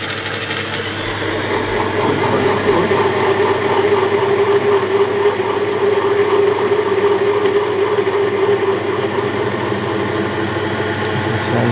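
A car engine runs at a steady idle with a constant low drone and hum, fairly loud and continuous, with faint talk in the background.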